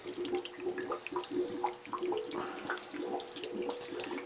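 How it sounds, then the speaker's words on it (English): Water trickles and gurgles through a tube, a soft, fairly close stream with irregular bubbling and dripping pulses continuing throughout, no speech. "Eventually no water will come through this tube."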